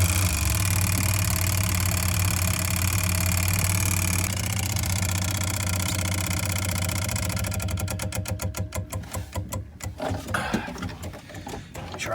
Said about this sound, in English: the engine still stalls out